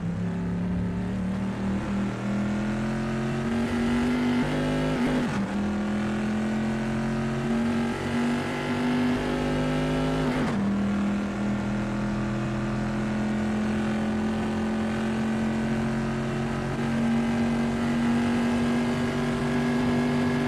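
Bizzarini GT 5300 race car in Assetto Corsa, its engine droning loud and steady while rising in pitch through the gears, with two sharp gearshift breaks along the way.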